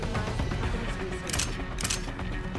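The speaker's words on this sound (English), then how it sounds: "Gunshots!" Gunfire in the video game Deus Ex: Human Revolution: two sharp, loud bursts about half a second apart, cutting through a dense, constant bed of game ambience and music.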